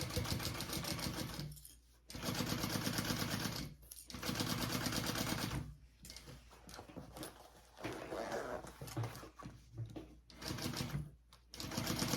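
A sewing machine stitches a seam on a crossbody bag, running in rapid mechanical bursts of several seconds separated by short pauses, close and fairly loud.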